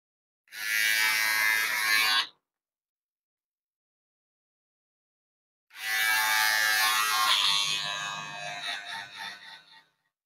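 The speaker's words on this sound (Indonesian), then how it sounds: "ini namanya alat shaver untuk membersihkan yang lebih bersih lagi" Electric hair shaver buzzing during a fade haircut, a bright close whine running for about two seconds, then a pause, then a longer stretch that wavers and fades as it moves over the head; no talking.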